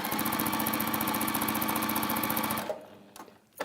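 A sewing machine stitches quilt fabric in a rapid, steady mechanical chatter, close and continuous, then stops abruptly, leaving a few faint clicks and handling sounds.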